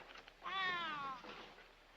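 A cat meows once in a 1942 film, a clear, drawn-out cry heard alone over a quiet background.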